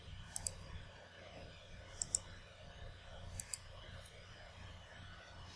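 Soft mouse clicks come in small pairs, spaced a second or so apart, against a quiet low room hum while operating recording software on a computer.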